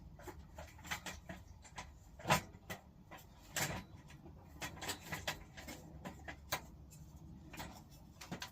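A ski being clamped into a waxing vise gives a string of sharp mechanical clicks and knocks at close range, with a few heavier thuds among lighter taps and no voices.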